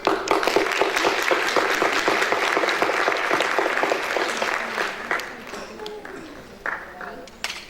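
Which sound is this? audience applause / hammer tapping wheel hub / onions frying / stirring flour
audience applause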